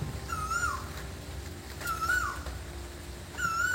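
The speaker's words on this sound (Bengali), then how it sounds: "কুকু করে কোকিল ডাকছে" An Asian koel gives three rising, whistled calls, evenly spaced a second and a half apart, ringing out clearly over a steady hiss of background noise.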